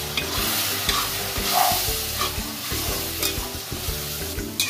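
Ginger-garlic paste frying with onions and liver in a pan, a steady close sizzle broken by regular scraping stir strokes, with no talking.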